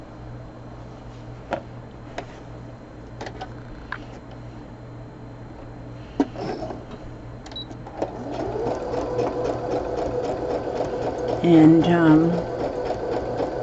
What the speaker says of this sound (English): so I'm going to sew them two together